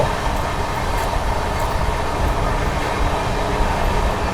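The Mahabodhi Express runs through Shikohabad Junction without stopping, producing a loud, steady roar of rolling wheels and rail rumble heard close from on board, broad and unbroken throughout.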